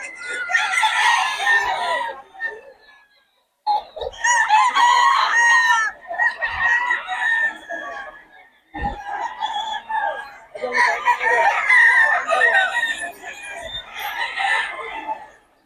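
Roosters and hens from a Pangasinan flock crow loudly and cluck in repeated bursts, close by, with short quiet gaps between calls.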